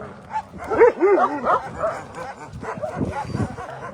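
Several shelter dogs bark and yip close by in short overlapping bursts, excited greeting noises mixed with someone talking over them.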